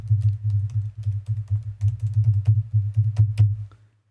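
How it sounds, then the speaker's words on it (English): Close, rapid typing on a computer keyboard heard through a USB desk microphone, a steady run of light key clicks over a low hum for about four seconds before stopping. "So let me type something."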